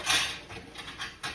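A metal baking tray and spatula handled in a home kitchen while making buttermilk biscuits, a few quiet light clinks and scrapes over a brief moment.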